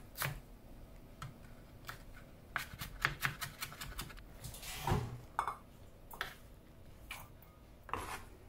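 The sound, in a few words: knife chopping celery stalks and leaves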